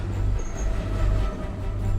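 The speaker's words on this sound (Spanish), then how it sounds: "hoy los trenes la atraviesan con facilidad." A train runs through a mountain tunnel on the Silk Road route, giving a loud, continuous low rumble and rolling rattle, with a faint high whine drifting over the steady roar.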